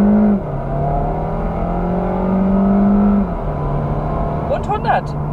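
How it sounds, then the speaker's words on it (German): An Audi A3 45 TFSI e plug-in hybrid with 245 PS pulls hard under acceleration, a steady engine drone rising in pitch with a gear shift partway through, heard from inside the cabin. "wir beschleunigen jetzt mal und schauen mal, was der kann"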